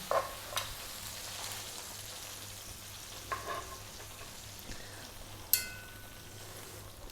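Seasoned browned beef goes into a cast iron pot and sizzles quietly and steadily, broken by a few sharp clinks.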